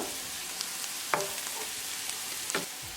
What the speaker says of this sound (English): we're going to cook the spices along with tadka for 1 minute